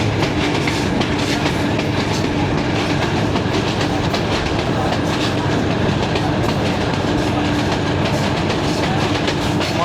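125UP Lasani Express train running on rails between Lahore and Baddomalhi, a loud, continuous rumble and rattle of wagons heard from on board, with steady clickety-clack throughout and no talk.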